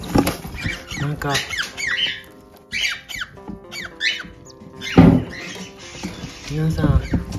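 Cockatiel chicks inside a nest box give repeated thin, high squeaky begging calls in quick bursts, close by, with a person talking softly over and between them.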